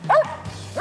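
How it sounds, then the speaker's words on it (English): A hunting dog gives one short, close yipping bark up at a squirrel it has treed in the woods, with a faint start of a second bark at the end. "Got a dog treed right behind us."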